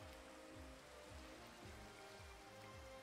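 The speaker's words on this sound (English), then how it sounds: "Ah, nice, we're getting some rain." Steady patter of rain falling in Minecraft, a soft continuous hiss of drops with faint, repeating low thumps underneath, quiet and even throughout with no speech.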